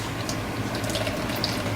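Canned tomato juice pours steadily into a small storage container in a kitchen, a continuous close liquid stream that stays even throughout.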